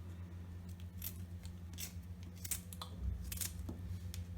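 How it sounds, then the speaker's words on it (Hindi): A knife cuts raw mango into small pieces for pickle, giving a series of short, sharp cutting clicks and crunches spaced irregularly over a steady low background hum, close and moderately loud. "आप आम को लें और चाकू से इस तरह से काट कर इस प्रकार छोटे छोटे पीस बनाकर फिर अचार बनाएं"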